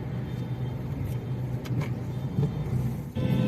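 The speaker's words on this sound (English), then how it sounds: "But the only negative part is the amount of traffic today." Heavy evening road traffic near Churchgate station in Mumbai, a continuous low rumble of car and bus engines passing close by, with occasional louder surges and no talking.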